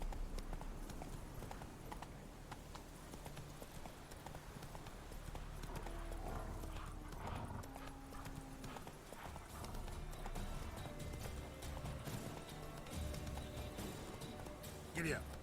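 Geralt's horse Roach from the Witcher game, hooves clip-clopping at a steady trot under continuous game music and ambience, with a voice talking over it and urging the horse on.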